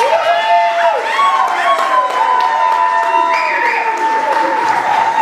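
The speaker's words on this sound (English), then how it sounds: "I'd like to give them all a round of applause," Wedding guests applaud and cheer at a reception, continuous clapping mixed with whoops and raised voices, with lively crowd chatter throughout.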